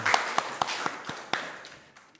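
Clapping from a congregation during a Korean church Sunday morning service: about nine crisp, evenly spaced claps in a steady rhythm, fading toward the end.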